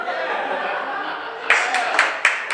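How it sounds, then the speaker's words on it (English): A comedy club audience breaks into a brief scattered clap after a comedian's baseball joke, a few sharp claps rising out of his ongoing talk. "Yeah, I got a clap for that too."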